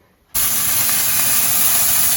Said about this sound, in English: So excuse the very noisy pan. I'm just frying off some celery, onion and carrots